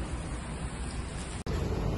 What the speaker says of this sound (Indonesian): Ini gerimisnya juga udah mulai lagi.